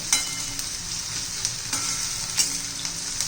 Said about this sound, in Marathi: चांगला परतून घेऊया कच्चेपणा जायपर्यंतच आपल्याला कांदा परतायचा आहे